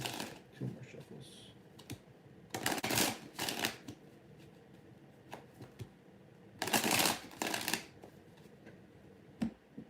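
Tarot cards are shuffled in quick riffling bursts, two main flurries a few seconds apart with lighter card taps and shuffles between, close and fairly quiet.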